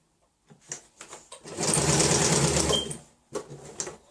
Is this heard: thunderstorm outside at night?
no